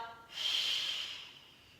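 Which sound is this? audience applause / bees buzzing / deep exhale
deep exhale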